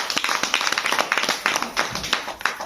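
An audience at a health products talk claps in a short burst of quick, distinct hand claps, moderately close and fairly quiet, with a few louder strokes scattered through.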